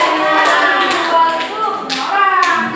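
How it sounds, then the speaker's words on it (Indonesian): Students in a classroom clap together briefly, a burst of quick, close applause with scattered overlapping claps that fades and returns. "Kasih aplaus."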